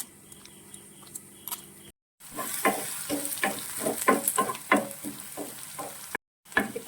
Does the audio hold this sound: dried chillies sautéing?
yes